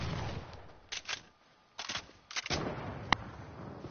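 Sniper fire in a PS4 shooter: a few sharp, fairly quiet cracks spaced across four seconds, then one crisp snapping shot, all set against low background noise.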